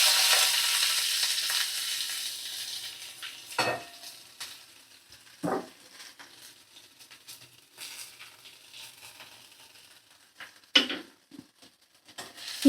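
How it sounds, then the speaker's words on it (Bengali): Chopped onions sizzle in hot oil tempered with cumin, with a steady frying hiss that fades over time and a few sharp clatters of stirring against the pan. "পেঁয়াজ দিয়ে নাড়াচাড়া করে নিচ্ছি"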